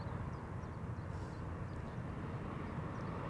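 An ITA Airways airliner on a flight from Milan arrives at Amsterdam Schiphol Airport, its engines giving a steady, broad roar from some distance that holds unchanged throughout, with no voices.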